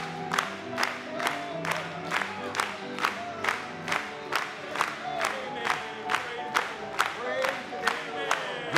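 A church congregation cheers and acclaims together, a mass of raised voices with rhythmic claps or shouts repeating at an even beat through the whole stretch.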